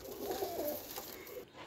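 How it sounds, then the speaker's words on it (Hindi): A pigeon coos softly a few times against a low, steady background hum, with no one speaking. "ले जी, लाखा कबूतर है जी"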